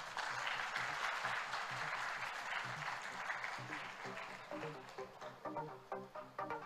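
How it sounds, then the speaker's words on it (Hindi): Applause from an audience at the close of a talk session on influencing with purpose, a steady dense clapping that thins into scattered claps and some faint musical tones toward the end. "सिमरप्रीत पाजी भी कहते ने पंजाब ले तालियां मार लो यार"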